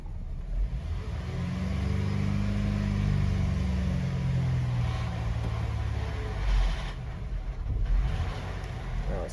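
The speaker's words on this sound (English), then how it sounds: "Let me see if I press on the throttle." A 2009-2017 Chevy Traverse engine revving up and settling as the throttle is pressed while the heater runs, a steady loud rumbling drone heard close up, with no talk.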